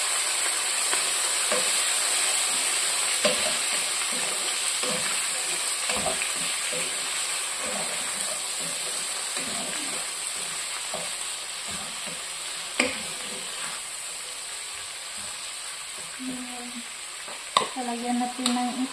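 Corned beef fries in a pan with a continuous bright sizzle and hiss, interrupted by occasional scraping and stirring clicks and a few louder knocks near the end.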